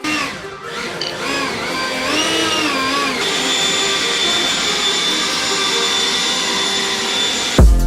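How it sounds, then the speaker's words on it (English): A powered blower clears out a garage with a loud, steady whine and roar, its pitch rising and wavering early on before settling into a constant drone that cuts off abruptly at the end. "So first we're gonna clean up all this metal lead stuff with the blower."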